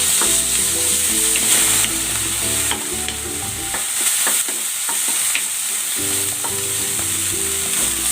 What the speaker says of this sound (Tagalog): I-stir fry ko naman itong chicken.